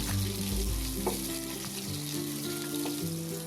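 Sliced onion frying in oil in a large kadhai, a steady close sizzle with faint stirring scrapes, no voices.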